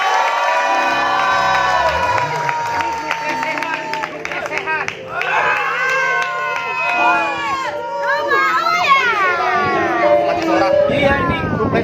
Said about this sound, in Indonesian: boleh minta tepuk tangan buat Rumah Uya